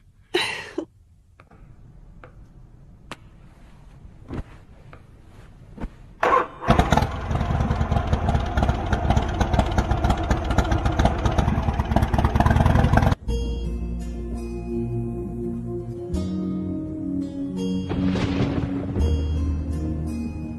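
A vehicle engine in a Hindi-dubbed South Indian movie scene cranks and catches, then runs loud and steady for several seconds as it drives off, followed by a more tonal, layered stretch that may include music.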